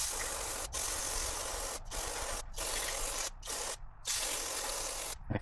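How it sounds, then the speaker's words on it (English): Carb cleaner hisses onto a push mower carburetor in several steady, close bursts, each separated by brief pauses. "I will hit this thing with some carb cleaner"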